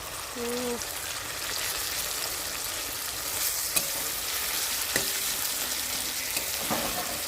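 Taro paste with chilli and garlic paste sizzles steadily in a pan, with soft scraping and a few clinks from stirring. A voice is heard briefly over the frying.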